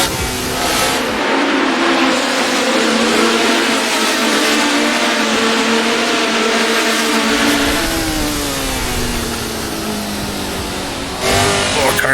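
A 1970-era Formula race car engine in the Assetto Corsa racing game, revving loudly and continuously with steady high-pitched roar and gear-shift pitch changes, running alone without talk.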